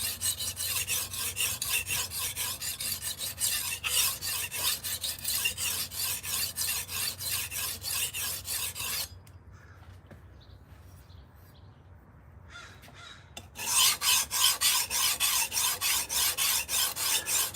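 A blade is sharpened on abrasive sharpening stones outdoors, with steady rhythmic rasping strokes close to the microphone; the scraping pauses for a few seconds in the middle, leaving quiet background, then resumes.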